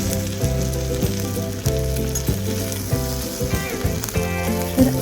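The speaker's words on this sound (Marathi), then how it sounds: "शिमला मिरचीला थोडे पांढरट असे फोड येईपर्यंत आपण भाजून घेणार आहोत." Capsicum (shimla mirchi) roasting in a pan gives a steady sizzle and frying hiss throughout, partly under louder background music with sustained tones, and no talking.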